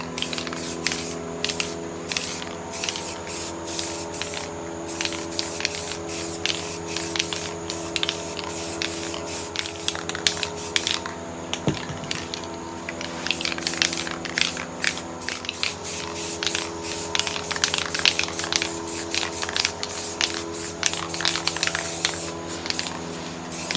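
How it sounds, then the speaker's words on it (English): An aerosol spray paint can hisses almost without a break for about twenty-four seconds while spray paint art is made, a steady, fairly soft rushing spray with small flutters in intensity and no voices. "Just take your spray paint cap and just do that, or your spray paint, whatever you're using."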